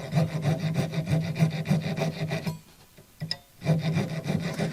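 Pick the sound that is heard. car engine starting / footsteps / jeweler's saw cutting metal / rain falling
jeweler's saw cutting metal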